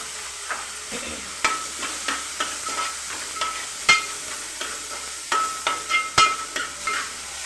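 Onions frying in a pan with salt, chili powder and a pinch of turmeric, a steady low sizzle broken by repeated spoon scrapes and stirring knocks, close and moderately loud, with no voices.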